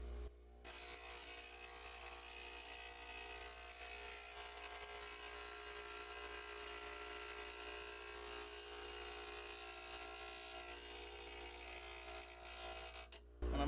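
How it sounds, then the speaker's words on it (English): A bench grinder wheel hones a wood turning tool, grinding it evenly across the face of the wheel. The steady, faint whir holds unbroken for over twelve seconds with no talk. "I'm watching to make sure I've got sparks all the way across the wheel. That way I get an even grind."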